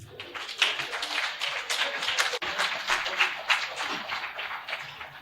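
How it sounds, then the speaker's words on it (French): A live audience at a Cotonou academy event breaks into applause, dense and steady clapping from many hands that goes on unbroken through the whole stretch with no voices. "Merci de vous applaudir."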